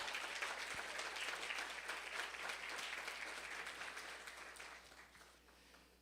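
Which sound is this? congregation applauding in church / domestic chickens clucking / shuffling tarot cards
congregation applauding in church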